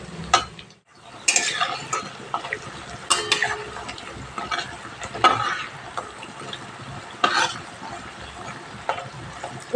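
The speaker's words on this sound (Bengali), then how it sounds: "এইভাবে করে উল্টে পাল্টে পাপড়িগুলো লাল লাল করে ভেজে নিতে হবে।" Papdi, flat dough crisps, frying in hot oil and being turned over, with a steady close sizzle broken by sharp clicks and scrapes of a utensil against the pan.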